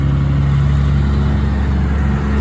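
Loud, close suburban truck-route traffic, a heavy truck engine rumbling and droning steadily as it passes, with no voices.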